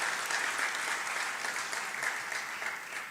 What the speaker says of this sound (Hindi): आप भी तालियां बजा के उनका स्वागत कीजिए,